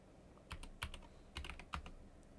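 Someone types a command on a computer keyboard in a few quick bursts of key clicks with short pauses between them. The sound is close but soft, with no talking.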